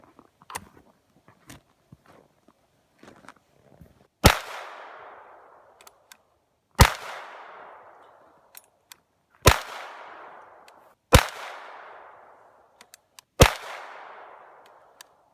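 Five loud gunshots of .380 rounds fired through a Chiappa X Caliber barrel insert ring out at a steady, spaced interval, each a sharp crack with a ringing decay outdoors.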